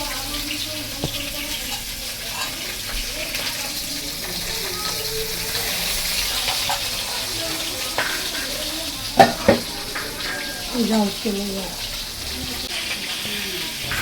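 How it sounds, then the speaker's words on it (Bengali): Stingray fish frying in a pan at home gives a steady sizzle with occasional stirring clatter, a couple of sharper clanks near the end, and faint background voices. "দেখো, শঙ্কর মাছগুলো মা ভেজে ফেলছে।"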